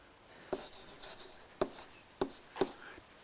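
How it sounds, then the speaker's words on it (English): Chalk or marker tapping and scraping on a board during a math lecture on systems of differential equations, with four sharp taps spread over a few seconds between soft continuous strokes, close and clear with no talking. "So let me write here."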